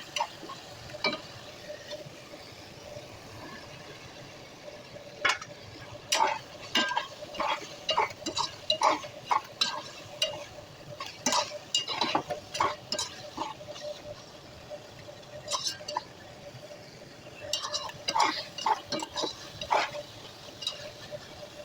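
Dried fish (shutki) being stirred and fried with spices in a pan: a spoon scrapes and clinks against the metal in irregular bursts, with quiet stretches between, near and moderately loud.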